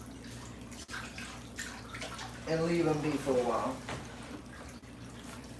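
Tap water runs steadily into a pet snake's water bowl as it is refilled, a continuous splashing wash that rises and thickens midway while someone talks over it.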